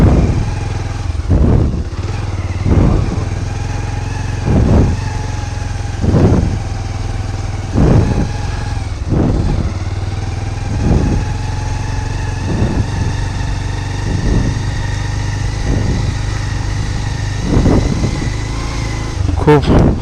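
A motor vehicle drives off-road on a rough, rain-soaked rural road, its steady engine drone punctuated by a dozen regular thumps and jolts from bumps along the way; close and fairly loud throughout.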